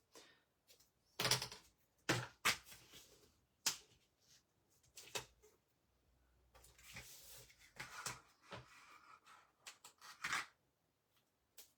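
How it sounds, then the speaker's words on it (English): Quiet, intermittent snips and crisp paper rustling close up, a handful of short cuts spaced irregularly with pauses in between. "Scissors."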